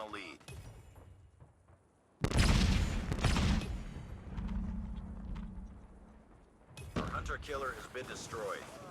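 Loud bursts of gunfire from the mobile shooter game Call of Duty Mobile erupt suddenly and roll on for several seconds in dense volleys, with someone talking over the action.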